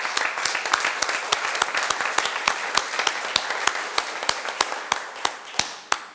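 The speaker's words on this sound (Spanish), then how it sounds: "Démosles un caluroso saludo y un aplauso" Applause at a conversation event marking a center's 20th anniversary, sparse and fairly quiet, with distinct individual claps ringing out steadily over a low murmur of clapping.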